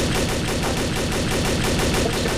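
Rapid automatic gunfire from the video game Trouble in Terrorist Town, a dense, loud, continuous burst of shots with an even rhythm and no pauses.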